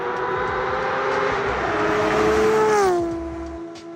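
A BMW engine destroked from 3 liters to 2.6 liters and spun to 10,000 RPM makes a loud, sustained high-revving wail that holds steady, then drops in pitch as the revs fall near the end.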